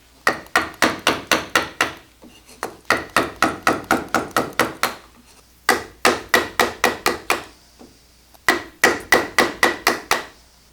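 Rapid bursts of sharp mallet strikes drive a carving gouge into a wooden bowl being sculpted by hand, loud and close, falling in groups of six to eight blows separated by brief pauses.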